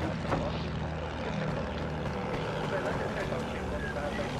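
Propeller airplane flying overhead in the Battlefield 1 video game, a steady droning engine roar mixed with battlefield noise, with players talking over it.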